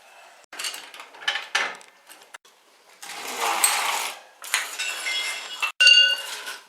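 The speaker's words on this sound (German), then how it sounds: "Wie immer ziehe ich die Muttern so fest wie es geht." Close, rattling mechanical bursts from a wrench tightening the rear wheel nuts on a VW Passat after a shock absorber replacement, coming in several short, uneven spurts with brief pauses between them.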